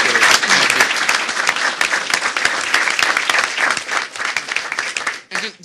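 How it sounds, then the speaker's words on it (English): A roomful of people at a mayors' education roundtable gives a loud, continuous round of clapping, dense and close, tapering off near the end. "I just want to please give the mayor a round of applause just for bringing us all together."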